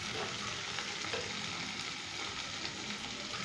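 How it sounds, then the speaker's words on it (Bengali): Ginger-garlic and green chili paste being stirred in a frying pan, producing a continuous, even sizzle with light scraping texture throughout and no voices. "সমস্ত কিছু দিয়ে এবার এটা ভালোভাবে মিক্স করতে হবে।"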